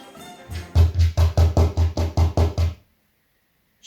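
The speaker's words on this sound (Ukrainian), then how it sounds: "Діду, діду, щось до нас у двері шкряботить" About nine knocks land at an even pace on a door as a sound effect in a folk tale, each thud close and hollow, then silence follows.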